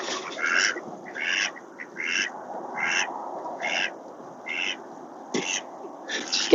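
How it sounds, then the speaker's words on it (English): Ducks on an Appalachian homestead quack in repeated bursts of loud, nasal calls, clustered in a steady rhythm close by, with no talking over them. "the ducks see me, decide they're going to make lots of noises"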